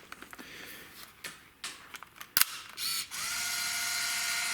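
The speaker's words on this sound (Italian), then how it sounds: "quando chiuderò, lei in automatico avvolgerà il rullino per prepararci la fotocamera" A Minolta Riva Zoom 70 35mm autofocus film camera winds its film roll automatically, giving a close run of ratcheting clicks followed by a steady whirring motor hum.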